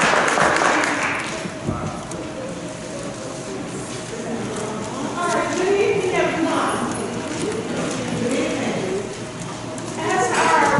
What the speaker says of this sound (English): Let's give them a round of applause as Mrs.